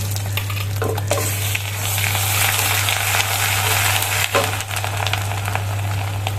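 Ginger paste dropped into coconut frying in oil for a Bengali dal, giving a loud, continuous close sizzle with a steady frying hiss and occasional stirring scrapes, without any voices.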